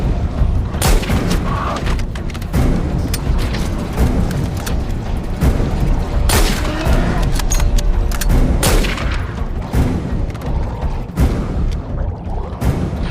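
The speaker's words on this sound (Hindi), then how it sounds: "गोली चलाओ, गोली चलाओ, गोली चलाओ, चलाओ गोली, आखिरी मौका है।" Loud gunshots crack out in irregular bursts, some closely spaced, over a constant noisy rumble, in a horror film.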